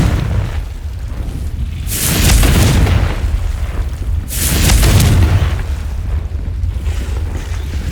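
Confringo, the explosive fire spell in the video game Hogwarts Legacy, goes off as two loud, booming blasts a couple of seconds apart, each a broad roaring burst that swells and fades over a steady low background rumble.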